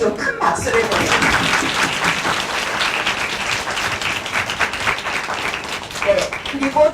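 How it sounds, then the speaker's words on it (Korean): An audience at a university essay contest info session and talk show gives the panelists a big round of applause, sustained clapping that swells, thins slightly and rises again near the end, with some voices mixed in. "패널분들한테 좀 큰 박수를 드립니다."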